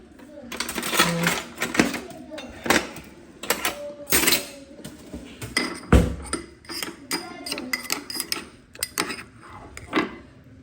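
Carrot pickle ingredients being mixed in a pot, with repeated irregular clattering scrapes and knocks of a spoon against the metal over about ten seconds, close and fairly loud, with some talk between.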